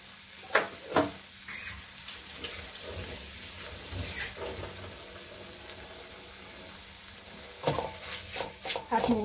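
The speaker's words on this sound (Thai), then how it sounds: "พริกแกงของเราหอมแล้วเราก็จะใส่หมูลงไปผัดเลยนะคะ" Pork stir-frying in a pan with Thai red curry paste for a pumpkin curry, giving soft scraping, stirring and light sizzling with a few sharper clatters of the utensil against the pan, fairly quiet and intermittent.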